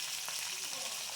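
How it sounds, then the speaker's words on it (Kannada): Green chilies, onion and curry leaves frying in a pan give a brief, even hiss of hot oil with faint crackles throughout. "ಹಸಿಮೆಣ್ಸಿನ್ಕಾಯಿ ಸ್ವಲ್ಪ ಫ್ರೈ ಆದಮೇಲೆ ಇದಕ್ಕೆ ಈರುಳ್ಳಿ ಮತ್ತು ಕರಿಬೇವಿನ ಸೊಪ್ಪು ಹಾಕ್ತಾಯಿದ್ದೀನಿ"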